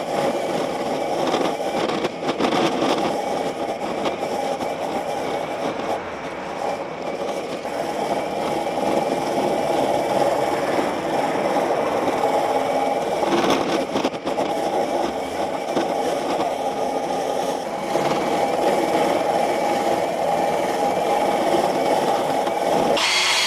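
A Westermann battery weed ripper brush machine clears moss from block paving with a continuous whirring grind that holds steady throughout and swells slightly at times, loud and close.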